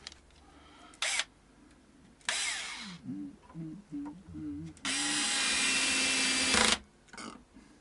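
A power drill driving screws into a Fender Powerhouse Strat guitar with the torque set to minimum, sounding as short bursts and then a longer steady whir, up close and separated by quiet handling noise.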